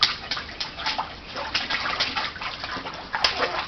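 Water splashes in quick, repeated bursts close by, a busy hissing splatter that runs throughout at a moderate level.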